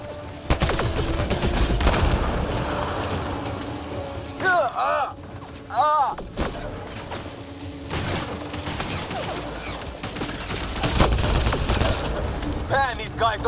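Sustained gunfire from a Mass Effect Andromeda firefight, loud bursts and rattling volleys with booms across the whole stretch, mixed with alien shrieks, under a talking voice.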